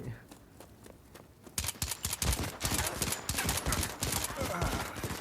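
Rapid AK rifle gunfire crackles through a firefight in Modern Combat 5, starting faint and then growing into loud dense bursts, with a player talking over it.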